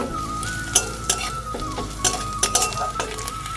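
Chopped onions and green chillies sizzle steadily in a pan while a utensil scrapes and clinks against the metal in repeated, irregular strokes, close and clear.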